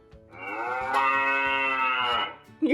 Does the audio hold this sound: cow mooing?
yes